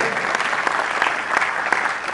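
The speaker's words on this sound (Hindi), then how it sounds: "please keep clapping" A packed room of students claps loudly and continuously for the Unacademy team at an orientation program, a thick, even wash of many hands with no break.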